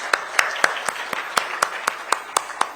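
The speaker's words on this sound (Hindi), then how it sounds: "तालियों से स्वागत कीजिए।" At an awards event, an audience claps in a slow, regular rhythm to welcome a yoga exponent, sharp unison claps about four times a second, over a low murmur of room sound.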